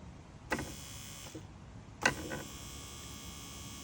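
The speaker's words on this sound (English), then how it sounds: "so we can switch this on and see what happens to our motor" The electric seat motor from a Mercedes CLK W208, wired to a power pack, whirs in two short bursts with a pause between them, each starting with a click, close up and moderately loud.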